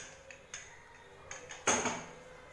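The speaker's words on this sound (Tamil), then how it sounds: "இப்போ மூடி ஓப்பன் பண்ணி பார்க்கலாம்." Light metallic clinks and taps, then a louder clank of a pressure cooker lid being opened after cooking mutton, close and brief, with no talking.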